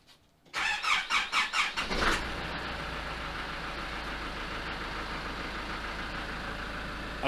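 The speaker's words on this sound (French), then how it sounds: "Le vieux patrol de 12 ans d'âge a quelques difficultés au démarrage" A 12-year-old Nissan Patrol's engine cranks in about six rhythmic, labored pulses, then catches and settles into a steady, loud idle with a rough rumble.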